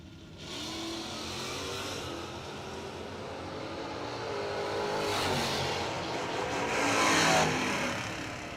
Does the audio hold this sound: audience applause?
no